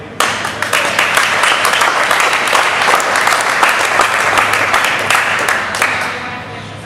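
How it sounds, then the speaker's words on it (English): A group of dock workers applauds at a team performance meeting, with loud, dense clapping that holds steady for several seconds before tapering off at the end. "I'd say give yourselves a round of applause yesterday."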